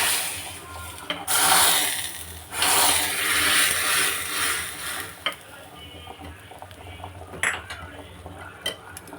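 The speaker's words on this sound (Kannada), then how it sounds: "ಈ ಒಗ್ಗರಣೆನ ಸಾಂಬಾರಿಗೆ ಹಾಕ್ತಾಯಿದ್ದೀನಿ" Hot tempering with cumin poured into a dill leaf sambar, giving loud bursts of sizzling and crackling that swell and fade, mixed with clinks of a metal spoon and pot, with no talking.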